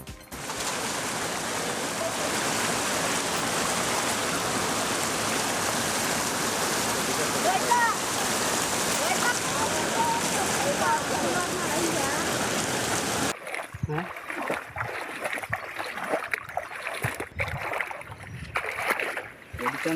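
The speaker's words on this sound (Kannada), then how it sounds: "ಕೆರೆ ಕೋಡಿ ಒಡೆದು ಯರಗೋಳ ಗ್ರಾಮದ ತಗ್ಗು ಪ್ರದೇಶಗಳಲ್ಲಿ ಇರುವ 2 ಮನೆಯೊಳಗೆ ನೀರು ನುಗ್ಗಿ ಅವಾಂತರವೇ ಸೃಷ್ಟಿಯಾಗಿದೆ" Floodwater from a breached lake rushing through low-lying parts of Yaragol village into homes, a loud, dense and steady roar of churning water for most of the stretch, then cutting to rougher, patchier outdoor noise.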